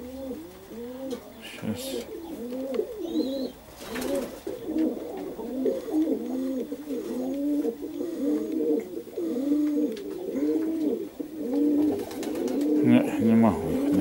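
Pigeons coo repeatedly in Perm, a steady run of soft, rolling calls from several birds close by, with a few brief words spoken over them.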